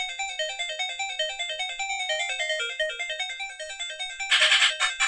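Bright chiptune melody from a Sega Game Gear played at full volume through dual speakers, a quick bouncing square-wave tune with a burst of noisy effect near the end, fairly faint and clean.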